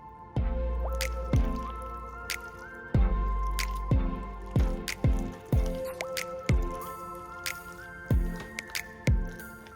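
Creamy crockpot macaroni and cheese being stirred, giving a series of close, wet squelching and dripping pops at an uneven rhythm, heard alone without talk.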